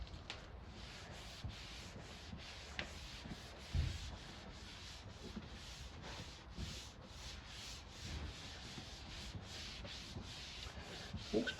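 Lacquer on car paint rubbed by hand to remove spray streaks after a touch-up, a steady close scrubbing and rubbing sound that runs the whole time in quick even strokes, with no talking.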